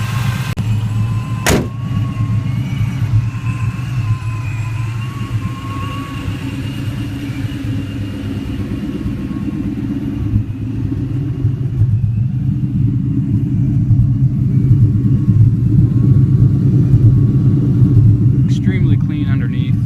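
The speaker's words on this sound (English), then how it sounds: "I like the whine of the supercharger. I think it sounds great, actually." A 500hp procharged Ford Mustang Cobra engine idling with a steady low rumble and a faint supercharger whine over it, continuous and fairly close, with a brief clunk near the start.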